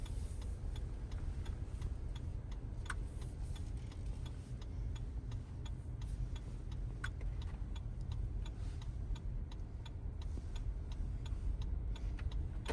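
Steady, evenly spaced ticking of a car's left turn signal indicator inside an automatic car, faint clicks repeating under a constant low engine and road hum, with no talking.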